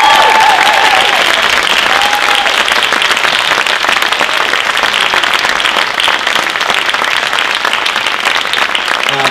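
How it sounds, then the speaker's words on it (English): Dense, loud applause from an audience after a saxophone recital, steady and sustained throughout, with a few faint voices mixed into the crowd. "let's give him another round of applause."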